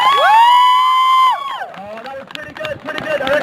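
A street performance crowd cheers and claps for a volunteer named Kevin: a loud whistle-like whoop sustained for over a second, then scattered shouts, whoops and applause from the audience, with voices mixed in.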